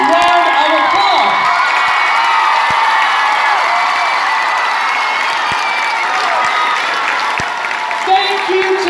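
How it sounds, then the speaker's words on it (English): A large youth event crowd in an arena bursts into loud applause and cheering for teachers, with whoops and children's shouts over sustained clapping that stays strong throughout and eases slightly near the end. "If you're a teacher, would you please stand up and give them, yes, a huge round of applause."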